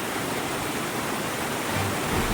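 A river rushes through forest in the Quinault area at a spot where it must be crossed on foot, a steady, loud, broadband wash of flowing water with no voices.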